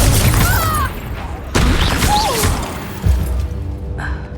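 A Confringo blasting curse erupts in Hogwarts Legacy, a loud booming burst with crackling debris, followed by more impacts and crashes among game effects, with a voice speaking over parts of it.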